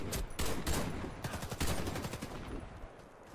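Rapid bursts of automatic gunfire in a Battlefield team deathmatch match, loud and close, with sharp repeated shots crowding the first half and tapering off toward the end.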